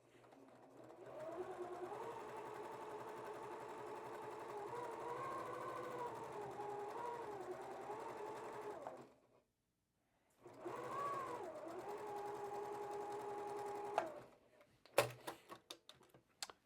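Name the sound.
sewing machine stitching a long quilt block seam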